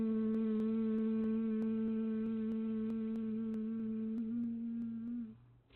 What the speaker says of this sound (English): we're going to take 5 slow breaths with an optional hum on the exhale